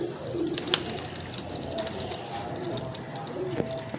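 A female Teddy-breed pigeon cooing: soft, low coos repeat several times over a steady background murmur.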